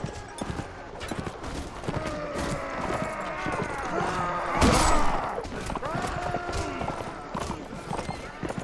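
A horse gallops in the video game Mount & Blade: Warband. Steady clip-clop hoofbeats run beneath battle noise, with a sharp loud burst near the middle and someone talking over it.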